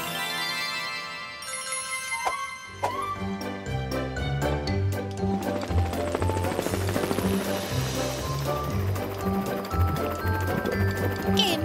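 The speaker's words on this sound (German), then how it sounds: "Morphle, verwandle dich in einen Hubschrauber." A cartoon helicopter whirs with a steady, pulsing rotor chop as a character transforms into a helicopter, under bright cartoon music.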